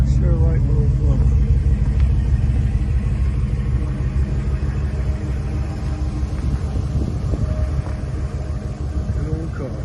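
A vintage car engine rumbles steadily and loudly up close, a deep continuous drone with a little rough variation throughout.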